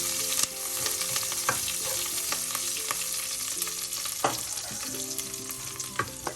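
Cauliflower thoran being stir-fried in a pan with ginger and chopped green chillies, a steady close sizzle broken by sharp scraping clacks of the spoon as the mix is tossed.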